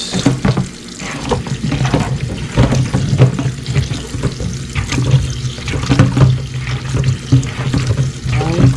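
Tap water runs steadily into a kitchen sink while grape Jolly Rancher candy is washed under it, a loud continuous splashing gush with shifting spatter as the candy moves through the stream.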